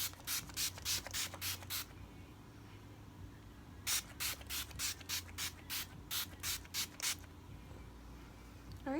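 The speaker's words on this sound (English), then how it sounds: "I'm probably gonna spray it one more time" Makeup setting spray for wedding makeup hisses from a pump bottle in two runs of quick, sharp bursts, about six and then nine, close and crisp with short quiet gaps between.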